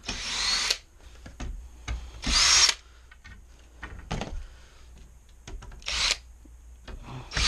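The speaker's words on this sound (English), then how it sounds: "take all these screws out of here, take my drill off, a hammer drill." Short bursts from a hammer drill backing screws out of a wooden bed frame, four or five loud whirring pulses separated by quiet gaps with small clicks and handling knocks.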